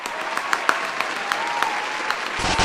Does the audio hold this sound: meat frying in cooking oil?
no